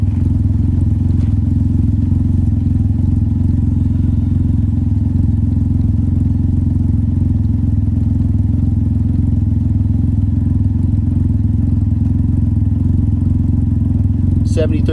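A Can-Am Ryker engine idles through an RLS carbon-series exhaust with the baffle removed, a deep, steady, rumbling drone close by, with a brief clatter near the end.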